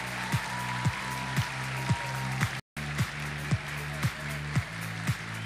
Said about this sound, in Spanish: Un aplauso para los nuevos administradores de empresas de nuestra universidad.